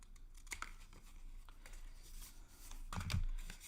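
Paper is snipped to cut off a corner while shaping a scalloped edge, giving soft crisp cuts and crinkles close by, with a louder rustling snip near the end and no talking.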